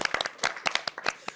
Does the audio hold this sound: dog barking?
no